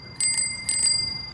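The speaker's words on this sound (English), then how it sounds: "With the ring of a bell" A bicycle bell on an adaptive bike rings in two quick pairs of bright, clear dings, fairly near, over a low outdoor rumble.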